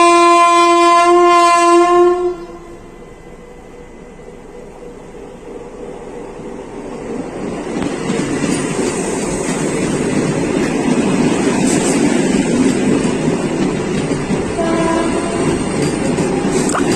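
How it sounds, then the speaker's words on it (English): A Vande Bharat express train sounds a loud horn, then rushes past at close range near BB Nagar railway station, producing a sustained roar of wheels and wind that stays strong to the end. "it's Vande Bharat which is coming, crossing us"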